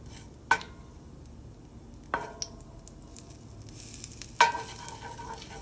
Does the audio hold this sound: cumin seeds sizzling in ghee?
yes